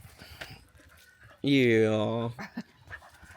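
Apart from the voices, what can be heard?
dog panting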